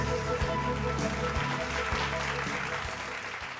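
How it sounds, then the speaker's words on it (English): An audience at an awards ceremony applauds, a steady wash of clapping that fills the room with even density and tapers slightly toward the end, with no speech over it. "I think this is the point that we need to applaud ourselves."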